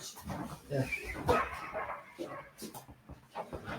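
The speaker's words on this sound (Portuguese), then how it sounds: "Esse cachorro está me incomodando na porta." A dog barks and whimpers outside a door during a church service, its short yelps and bow-wows coming in bursts under a speaker's voice in a reverberant room.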